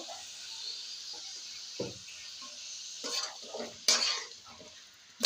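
Mutton curry cooking in a pot with mustard oil, chilli paste and onion, a steady hiss of simmering under intermittent scraping and stirring strokes, with a louder clatter of the spoon near the end, close up and without speech.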